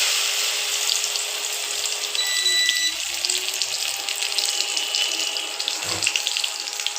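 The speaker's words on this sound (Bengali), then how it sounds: "ডালের সাথে এরকম করে দিয়ে কুমড়োটাকে এভাবে ভেজে নিতে হবে।" Pumpkin frying in a pan with lentil paste over a low flame gives a steady, even sizzle and hiss that runs unbroken from start to finish, close and moderately loud, with no voices.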